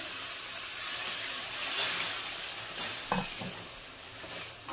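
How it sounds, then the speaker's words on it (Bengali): Steady sizzling hiss as a little hot water is added to a hot frying pan, with a few soft clinks and stirring knocks, the frying sound continuous throughout with no talk. "এখানে গরম জল দিয়ে দেবো অল্প করে"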